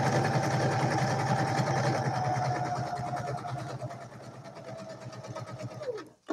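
Sewing machine stitching a fabric journal cover, a close, steady rapid whir that runs alone for several seconds, slows and stops near the end.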